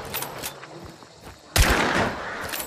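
Gunshots in Hunt Showdown: faint distant reports at first, then a sudden loud, close blast that rolls into a rumbling echo and scattered further shots.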